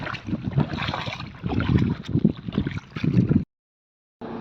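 Strong wind gusts over choppy water, buffeting the microphone in loud rumbling bursts for a few seconds before a sudden silence and a brief return.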